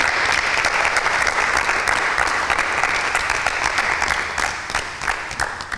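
An audience at a Bible quiz applauds after a correct answer, giving a loud, dense burst of clapping from many people that gradually fades out.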